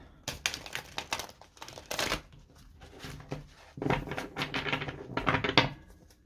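Bursts of crisp, papery riffling as a deck of tarot cards is shuffled repeatedly, loud and close, with brief pauses between shuffles.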